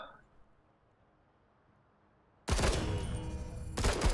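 Squad gunfire in the turn-based tactics game Menace: after a quiet stretch, a loud, dense burst of shooting and explosions fills the last part, sustained and close with a sharp final crack.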